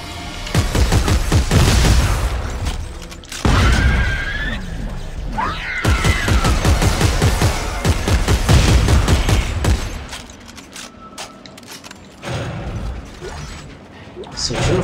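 Rapid weapon fire rattles in dense bursts in co-op Dead Space 3, with mechanical clanks and creature shrieks between volleys, while players talk over the action.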